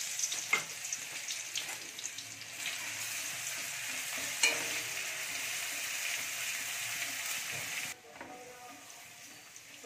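Garlic paste frying in hot oil, a steady loud sizzle with occasional stirring clicks and scrapes, easing slightly near the end; no one speaks.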